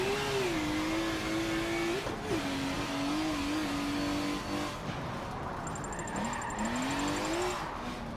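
A BMW race car engine in Forza Motorsport 7 revs hard and repeatedly bounces off the redline limiter during a drift, loud and close with gear shifts and a brief tire squeal.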